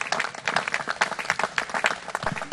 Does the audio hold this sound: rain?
no